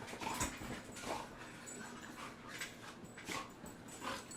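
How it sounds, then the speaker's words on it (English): An excited small dog whimpers and pants close by, giving quick, breathy huffs with short high whines repeating in an uneven rhythm. The sound is fairly quiet and no one speaks over it. "She's a very happy little insane dog."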